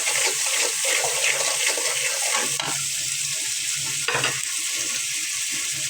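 Cauliflower, potato, beans, cabbage and tomato with chilli powder, turmeric and salt stirred in a hot pan, giving a loud, steady oily sizzle with a couple of sharper spatula scrapes, alone and close.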